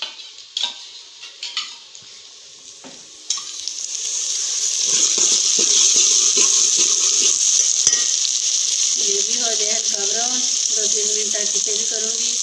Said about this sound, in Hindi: अब मैं इसमें डालती हूँ लहसुन अदरक और सब्ज़ मिर्चों का पेस्ट।